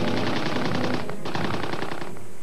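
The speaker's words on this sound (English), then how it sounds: "even when they opened fire" Rapid automatic gunfire from soldiers in a wartime documentary scene, a loud continuous burst of machine-gun rounds with a brief gap before the firing resumes.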